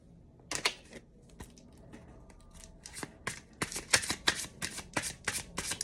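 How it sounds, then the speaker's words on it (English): Tarot cards with a stiff, hard finish shuffled by hand, with rapid papery riffles and slaps coming in bursts, growing busier and louder toward the end, close by with no talking. "I really don't like shuffling these cards."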